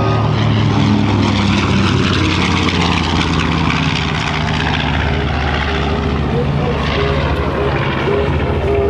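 B-25 Mitchell bomber "Panchito" flying at an air show, its twin piston engines producing a loud, steady propeller drone and roar that holds throughout.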